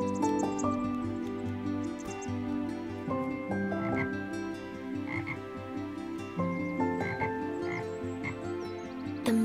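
Bullfrog croaking at a misty river in the morning, a run of deep, resonant croaks overlapping one another, loud and close with no voices.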